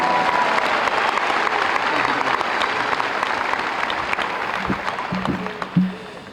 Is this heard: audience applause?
yes